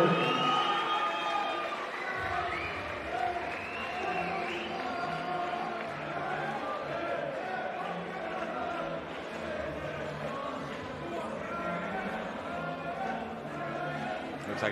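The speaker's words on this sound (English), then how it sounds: "Looks like he's brought a crowd here tonight" Crowd noise at a boxing event in Grand Central Hall, a steady dense murmur of many voices with scattered cheers and shouts throughout, fairly loud and continuous.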